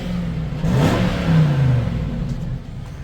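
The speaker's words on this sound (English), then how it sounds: "Let's see what this V8 does." The V8 engine of a used Jaguar XK revs up and settles, a fairly quiet, smooth rise and fall in pitch over a steady idle rumble, heard close with no talking.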